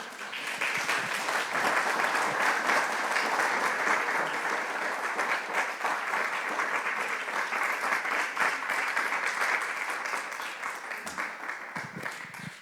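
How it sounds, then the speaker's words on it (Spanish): A church congregation claps for the Lord during a Spanish-language Bible study service, with dense, sustained applause that holds steady for several seconds and then thins slightly toward the end. "Dele palmas al Señor."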